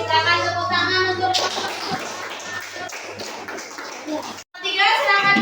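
Children in a classroom clap their hands in a quick burst of sharp, close claps, with kids' voices before and after.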